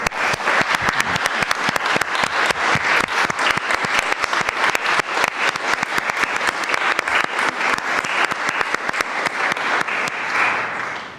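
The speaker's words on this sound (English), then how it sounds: "So I think they deserve a round of applause." Loud, sharp clapping from a conference audience at a Ukraine support event in Poland, sustained evenly for about eleven seconds before easing slightly at the end.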